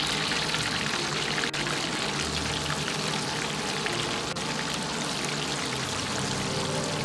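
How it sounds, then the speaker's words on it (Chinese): Chicken racks go into hot oil for deep frying, giving a loud, continuous sizzling crackle close by, a dense hiss like heavy rain that holds steady without a break. "接着继续下入锅中炸制。"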